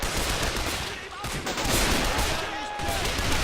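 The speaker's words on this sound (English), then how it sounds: "So the British are already taking fire from German troops hiding in the window over here." German troops firing from a window in Men of War: Assault Squad 2, heard as a dense, continuous rattle of gunfire from several weapons along with sharp shots and a voice.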